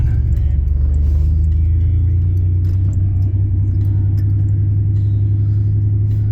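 A 1961 Chevy 4x4 truck drives along with a loud, steady low engine rumble and a rhythmic throb, joined by faint rattles and clinks from the cab.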